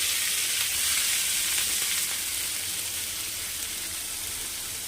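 Leafy greens fry in hot oil with dried red chillies and black cumin seeds, a loud, dense, continuous sizzle close by with no voices.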